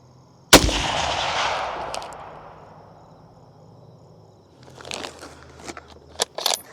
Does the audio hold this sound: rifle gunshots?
yes